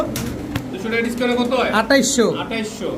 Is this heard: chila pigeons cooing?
yes